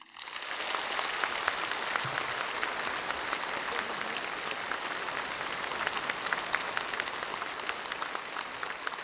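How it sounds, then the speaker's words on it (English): Long, continuous applause from National People's Congress deputies in a large hall, greeting the newly elected state leadership; a broad, sustained roar of clapping that swells in quickly and holds evenly throughout, with no speech on top. "Long and continuous applause to the newly elected leadership."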